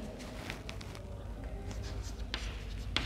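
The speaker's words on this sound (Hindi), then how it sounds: "साथ साथ में श्यामपट्ट पे लिखेंगे" Chalk scratching and tapping across a blackboard in a series of short strokes, close and fairly quiet over a low room hum.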